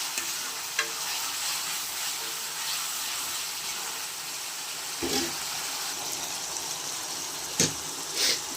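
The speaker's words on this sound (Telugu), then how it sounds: "అల్లం వెల్లుల్లి పేస్ట్ బాగా పచ్చి వాసన పోయేంత వరకు వేయించుకుందాం" Ginger garlic paste frying in a pan for a Rayalaseema-style country chicken curry, giving a steady close hiss with occasional stirring scrapes.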